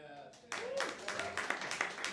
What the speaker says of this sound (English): Round of applause over here for this loop call.